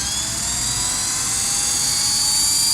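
A toy remote-control helicopter flies fast, giving a loud, steady high-pitched whine with a constant buzzing rotor drone that holds at the same level throughout, with no voices.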